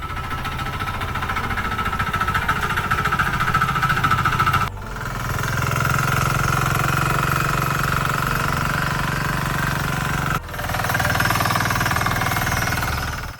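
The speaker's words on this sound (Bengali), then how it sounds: "এখন এই পাওয়ার টিলার দিয়ে আমি চাষ করতেছি" A mini power tiller's engine drones loudly and steadily as it ploughs a field, a close, rough chugging hammer that dips briefly twice as the load shifts, with no talk over it.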